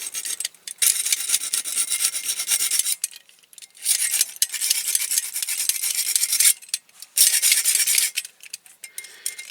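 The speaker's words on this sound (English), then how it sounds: "I might have to try and file a little bit more for that one" A hand file rasps back and forth on a small part of a custom Matchbox King Size K8 Guy Warrior toy car transporter, making close, scratchy strokes in uneven bursts that are broken by short pauses.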